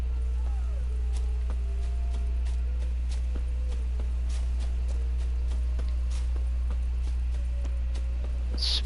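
Roach, the horse in the video game Witcher 3, gallops with steady rapid hoofbeats over a constant low drone and ambient game sounds, while faint occasional tones sit in the background.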